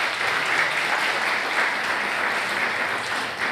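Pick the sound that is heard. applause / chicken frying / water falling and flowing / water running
applause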